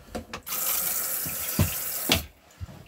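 Water runs steadily from a bathroom tap in a motorhome, a close continuous rush broken by a few clunks and knocks at the start and end, with no talking.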